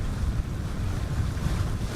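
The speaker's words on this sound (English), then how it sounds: "A bit windy, we have the headwind down." Steady wind rushes across open cold water while sailing into a headwind, with a low rolling wash of waves beneath the gusts.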